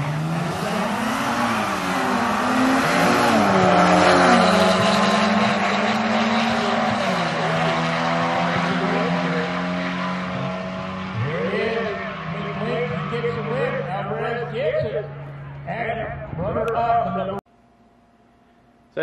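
A 2002 Mercedes SLK32 AMG and a 2008 VW launch together at a drag strip, engines roaring and shifting through rising harmonic sweeps, fading into the distance before cutting off, with a voice speaking over the noise.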